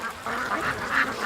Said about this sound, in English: we're watching the ducks here